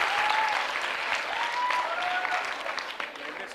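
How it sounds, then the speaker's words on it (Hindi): An audience at a Dev Anand quiz show applauds, sustained dense clapping that carries evenly before tapering slightly at the end. "तालियां जोरों से बजाइए, जोरों से बजाइए"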